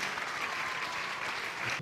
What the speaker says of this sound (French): On peut vous acclamer fort.